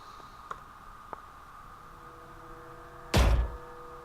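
A weapon is reloaded in a night terror mission of a video game: a couple of small clicks come first, then one sharp, loud mechanical clack near the end, over a quiet hiss.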